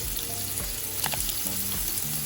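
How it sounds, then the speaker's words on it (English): Beef tips frying in oil in a pan, a steady loud sizzle and crackle throughout, close up and alone. "Our oil in our pan, beef tips in there."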